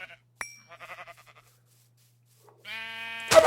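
Sheep bleating in the Minecraft video game, a few short wavering bleats early on, then a longer, louder bleat near the end, clear and close against otherwise quiet background.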